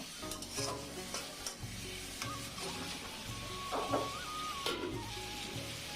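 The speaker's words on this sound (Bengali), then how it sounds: "টমেটো দিয়ে ভালোভাবে একটু নাড়াচাড়া দিয়ে কষিয়ে নিব।" Chopped tomatoes being stirred into spiced masala in a pan for a fish, cauliflower and potato curry, with a steady sizzle under repeated scraping strokes of a spoon against the pan.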